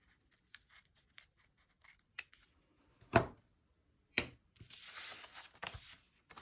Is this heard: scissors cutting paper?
yes